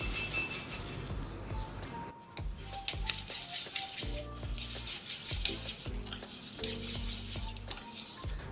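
Peanut powder and puffed rice being mixed for bhel puri, with steady stirring, scraping and soft clinking of a spoon against a bowl, close and continuous, with no talking.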